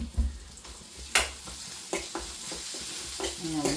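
Crushed dried red chillies frying in oil in a pan for rasam, a steady close sizzle broken by several sharp scraping stir strokes and small pops, with no voice over it.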